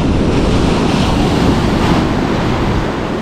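Strong wind buffets the microphone on a surf beach while fishing, a loud, constant roar blended with the wash of breaking waves and no voices.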